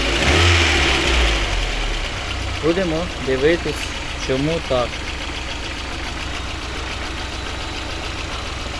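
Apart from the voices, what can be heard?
VAZ car engine running rough, misfiring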